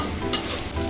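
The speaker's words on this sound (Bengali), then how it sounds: "একটু মিক্স করে নিব।" A chicken mixture being stirred in a frying pan, a brief scrape of the spoon over a steady hiss of sizzling oil, close and fairly quiet.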